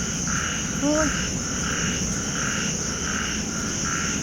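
Frogs croak loudly in a rhythmic chorus on a rainy night in rural Thailand, pulsing steadily throughout with a few rising calls near the start, under a constant insect drone.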